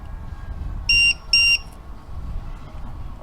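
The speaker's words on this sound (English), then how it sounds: "I use an old school LiPo battery alarm to beep at me when the cell voltage is starting to drop down." A LiPo battery voltage alarm at an RC airplane flying field in Nashville, Tennessee gives two short, loud electronic beeps in quick succession over steady outdoor background noise.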